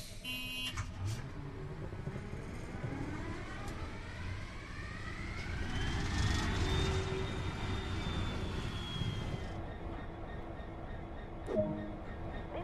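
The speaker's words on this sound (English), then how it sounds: "Use the engine start button on the desk, then wait for the engine to get running" Diesel locomotive engine in Train Sim World's GWR Great Western Express route cranks and spins up to a steady running drone, a rising whine climbing over a rumbling low throb, fairly loud and close with no talk.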